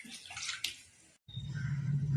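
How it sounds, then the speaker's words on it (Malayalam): Water from rinsing a blender jar is poured into a spice paste boiling in a pan. A brief splashing pour is followed by a short gap, then a steady, close bubbling gurgle. "നമ്മൾ ജാറ് കഴുകി വെള്ളം ഒഴിച്ച് കൊടുക്കും"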